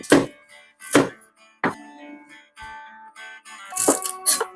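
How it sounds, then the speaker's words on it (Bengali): A knife chops a fresh green chilli on a board: a few sharp, separate thunks spaced about a second apart, close and clear, with quiet gaps between them and no talk. "একটা কাঁচা লঙ্কা আমি কুচিয়ে নিচ্ছি"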